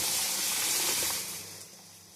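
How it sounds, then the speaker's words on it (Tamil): A broad splashing hiss as hot sambar is poured onto tempering, loud at first and fading as the pour tapers off. "இப்போ சாம்பாரை ஊற்றிக்கிறேன்."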